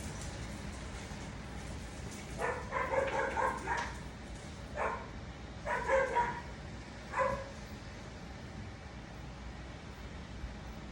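A neighbor's dog barks in short bursts, several yaps and bow-wows in clusters spread over a few seconds, moderately distant against a quiet room background with no speech.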